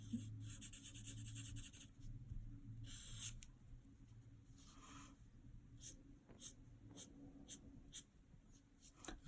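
A pressure-sensitive pen drawing caricature lines on paper, soft scratchy strokes in short bursts and sweeps, faint and close in a quiet room.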